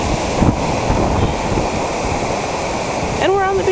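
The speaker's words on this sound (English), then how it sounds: "Here we are in Atlantic City, New Jersey, enjoying the Atlantic Ocean" Atlantic Ocean surf breaking on a cold, windy February beach at Atlantic City, New Jersey, a steady broadband wash of waves with wind rumble against the microphone, and a brief tonal whine near the end.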